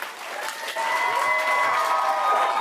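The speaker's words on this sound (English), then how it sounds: "You can hear the cheering" A crowd at a Tucson City Council meeting claps and cheers after a unanimous vote. The applause is loud and sustained, swells after a moment and continues steadily to the end.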